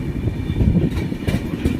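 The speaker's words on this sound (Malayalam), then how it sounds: "മുംബൈയിൽ നിന്ന് ട്രെയിൻ തിരിച്ചു മംഗലാപുരത്തോട്ട് ട്രെയിൻ പോവുകയാണ്." The Mumbai to Mangalore Express rumbles along with a dense, continuous low roar and rhythmic wheel clatter, heard from on board and steady throughout.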